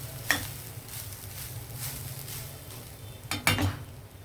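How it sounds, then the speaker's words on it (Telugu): Grated coconut for laddu fries and is stirred in a pan. A soft, steady sizzle runs throughout, and two sharper scraping clatters of a utensil against the pan come at the start and near the end. "ఇదిగో 1 మినిట్ వేగింది కొబ్బరికూర దీనికి"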